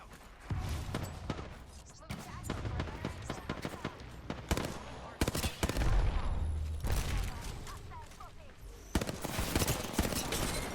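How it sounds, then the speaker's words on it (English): Rapid bursts of enemy gunfire from several weapons crackle through a chaotic Apex Legends firefight, dense clusters of shots with brief gaps, while players talk over the action. "The enemies are shooting."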